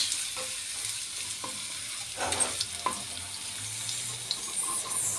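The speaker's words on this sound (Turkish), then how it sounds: "Bunlar iyice kokusu çıkıp kavruncaya kadar soteleyeceğim." Onions crackle and sizzle as they sauté in a hot pan, with a few clinks of a utensil stirring partway through; no one speaks.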